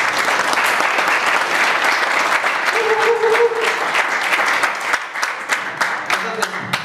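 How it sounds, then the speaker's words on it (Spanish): Sustained, loud applause from a gin event audience welcoming master distiller Jared Brown, steady dense clapping throughout with brief voices surfacing near the end. "Quiero un aplauso enorme para él."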